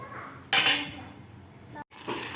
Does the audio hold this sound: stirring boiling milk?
yes